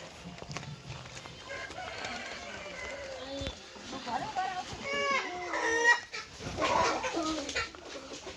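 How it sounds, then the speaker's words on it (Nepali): Chickens cluck and squawk in a busy flock, with one rising crow-like call near the end, set against steady background noise and faint voices. "कुखुराहरू चाहिँ टन्ने रहेछ।"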